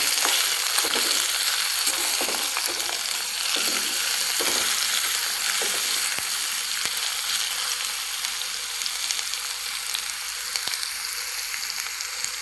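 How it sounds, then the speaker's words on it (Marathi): Mustard seeds and finely chopped ridge gourd sizzle steadily in hot oil for a Maharashtrian gilkyachi bhaji, with scattered crackles and pops as the pieces are stirred and mixed, loud and continuous without speech. "मोहरी आणि गिलके टाकून घेणार आहे, जे आपण बारीक कापून घेतलेले आहेत. आणि याला छान असं मिक्स करून घेऊया."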